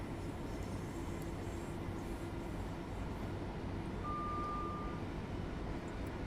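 A Class 700 electric train accelerates in Train Sim World 3, giving a steady, dense rumble and drone with a faint tonal whine, unbroken and without voices.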